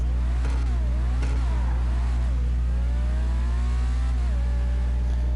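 The Truffade XA21 supercar in Grand Theft Auto V revs its engine in a loud, steady drone that climbs and dips in pitch over several seconds, close and continuous with no talk.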